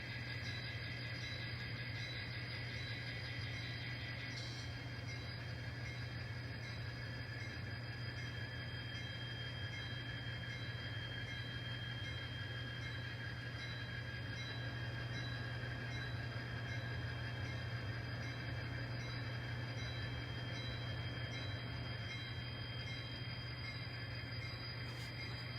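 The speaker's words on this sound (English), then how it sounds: "Haven't run this train through here at all." A switching locomotive rolls steadily along yard track with a continuous rumble and a high metallic squeal from the wheels, quiet and constant throughout.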